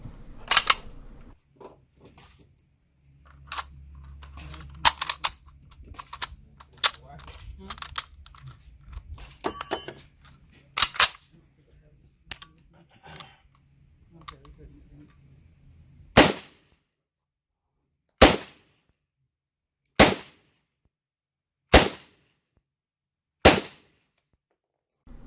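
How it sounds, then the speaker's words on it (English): Rifle shots from a real SKS, first a scattered volley of sharp reports over background rumble, then six loud isolated shots spaced evenly about two seconds apart, each cracking cleanly against near silence. "here's some footage of me shooting my own SKS"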